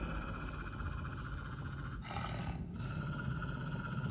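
A wolf-like creature in the horror video game The Inpatient growls and roars, a low rasping snarl filling the clip without talk, with a brighter burst midway.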